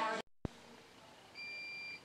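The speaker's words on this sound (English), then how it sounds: "battery backup is still beeping." A faint, thin electronic beep from a battery backup unit during a power outage after Hurricane Sandy holds for about half a second in a quiet room, following a brief click.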